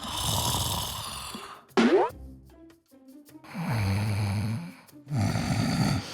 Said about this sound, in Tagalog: Ang hilik niya, parang sirenang dumadagundong.